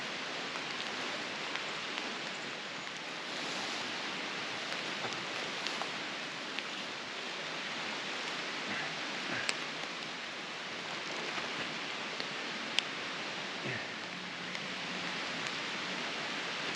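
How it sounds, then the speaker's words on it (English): Rain falls outside a backpacking tent in the Smoky Mountains, a steady close hiss of drops on the tent fabric with the odd louder tap, unchanging for the whole stretch and free of voices. "Well, I'm in my tent because it's raining outside."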